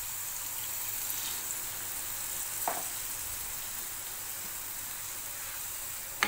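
Pork curry with tomatoes cooking in a pan, a steady soft sizzle and bubbling hiss that holds evenly throughout with one faint clink partway through and a small knock at the very end, no talking.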